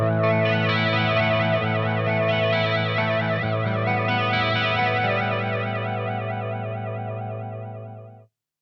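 Electric guitar played through a Boss Katana-100 MkII combo amp with a modulation effect, a sustained distorted chord warbling and sweeping in chorus-like waves, loud and alone, slowly fading out at the end.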